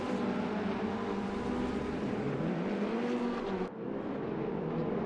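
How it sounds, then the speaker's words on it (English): Ferrari Challenge race cars at Imola rumbling as they pull away onto the formation lap, a steady loud engine drone with a brief dip near the end. "We now get underway for our short formation lap."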